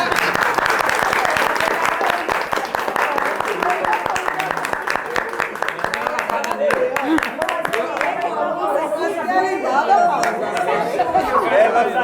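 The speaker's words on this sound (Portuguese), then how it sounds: "Eu queria que vocês dessem uma salva de palmas para um ator aqui que chegou" Audience applause for an actor at a baking workshop, loud rapid clapping that thins out toward the end as chatter and voices take over.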